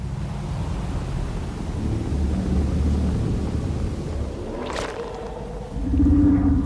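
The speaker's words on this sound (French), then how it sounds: "C'est le serpent monde!" The World Serpent in God of War lets out a deep, rumbling roar that swells over a low ambient drone, with a sharp tonal cry near the end, loud and close.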